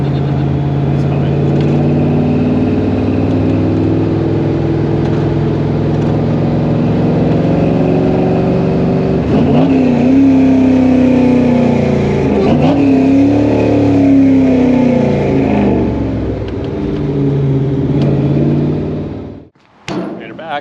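A supercharged 1955 Chevrolet Nomad gasser drones loudly on the road, its engine note rising and falling through a couple of revs, with cabin rumble throughout and voices talking over it before it cuts off near the end.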